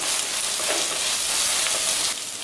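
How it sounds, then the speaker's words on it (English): Ginger garlic paste fries in a kadai with onions and capsicum for kadai paneer, giving a loud, steady, close sizzle that continues without pause and without voices. "Add 1 teaspoon of ginger garlic paste,"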